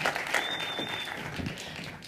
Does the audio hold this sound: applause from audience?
yes